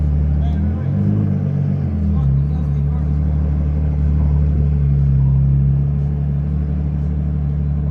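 A Ferrari 812 GTS engine drones loud and deep as the car is kicked sideways into a drift, a sustained low roar with a brief shift in pitch early on and voices talking over it.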